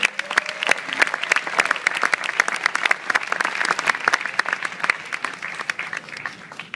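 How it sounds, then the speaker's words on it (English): A graduation audience applauds at a school ceremony, dense sustained clapping from many hands filling the hall evenly for several seconds, loud and close with faint crowd murmur beneath. "Let's give ourselves a well-deserved round of applause."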